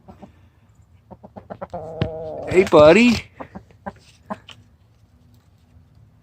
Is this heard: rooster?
yes